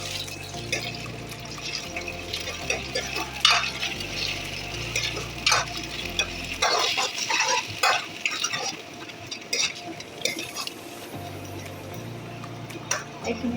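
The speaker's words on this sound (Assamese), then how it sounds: "এইখিনি অলপ টাইম ভাজি থাকিব লাগিব।" Ginger, garlic and chilli fry in a pan while being stirred, giving a steady sizzle with scraping and clinking strokes throughout. Low background music plays under the first half.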